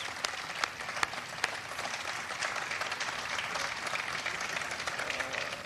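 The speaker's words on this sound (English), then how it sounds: "Please give them a big round of applause." An audience at a tobacco control bill signing applauds members of Congress, with sustained, dense clapping that carries on evenly throughout, a few sharper claps standing out near the start.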